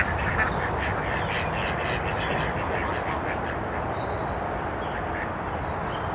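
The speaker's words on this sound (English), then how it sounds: "There's all them ducks over there looking at me" A flock of ducks quacking continuously by a pond, dense overlapping calls with steady outdoor noise, no talking.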